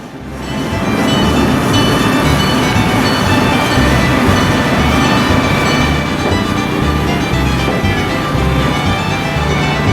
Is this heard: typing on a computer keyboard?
no